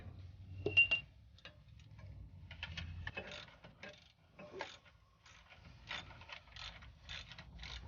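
A hand ratchet working the long starter bolts loose on a Cadillac Escalade, rapid close metallic clicking in repeated bursts with brief pauses between strokes.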